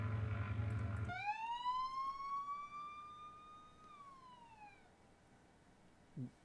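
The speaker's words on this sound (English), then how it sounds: "you're going to basically find the sirens in the 7 second range." A police siren sound effect from the video game GTA 5 rises sharply into a steady wail, then drops away, loud and alone after a brief low rumble.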